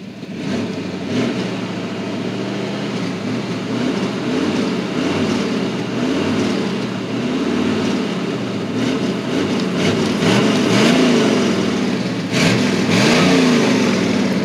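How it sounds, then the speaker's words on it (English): A 1989 Chevrolet Silverado pickup truck engine revving repeatedly, loud and close, rising and falling in a series of throttle blips over a continuous rough running rumble, with no talking. "Sounds pretty good when you rev it up though"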